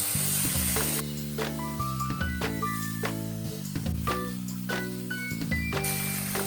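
Prawns, minced garlic and oyster sauce stir-fry slowly in a wok over low heat, giving a soft continuous sizzle with frequent metallic scrapes and taps of a spatula, near and without talk.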